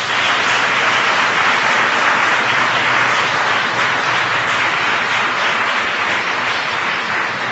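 Steady, sustained applause from a large audience at a presidential speech, a dense wash of clapping that holds at even loudness throughout without talk.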